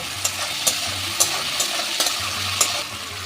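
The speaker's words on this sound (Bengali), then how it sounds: "এই ছোলাটা আমি দিয়ে দেবো ছোলাটা অল্প ভেজে নেব" Soaked black chickpeas fry in a pan for a taro-leaf dish, giving a steady close sizzle with repeated scraping stirs of a spoon against the pan at a loose, uneven rhythm.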